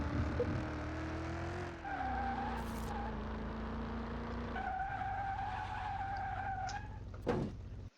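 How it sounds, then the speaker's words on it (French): A car's handbrake skid in the video game Car Mechanic Simulator 2021: a loud, sustained tire squeal over engine drone, easing off midway and resuming, then ending with a sharp burst of noise. "quand vous appuyez sur la barre espace, vous faites un coup de frein à main"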